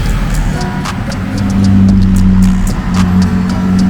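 An air-conditioned bus drives along a route to Siam Amazing Park in Thailand, its engine a steady low drone with rising hum and faint rattles throughout, close and continuous.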